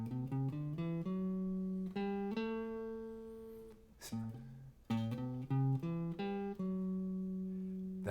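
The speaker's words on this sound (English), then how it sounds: "That's the sound of Dorian right there." Two scales played one after the other on a single pitched instrument: a major scale, then the Dorian mode, a minor scale with a raised sixth. Each is a run of clear, evenly spaced ascending and descending notes, played alone and close.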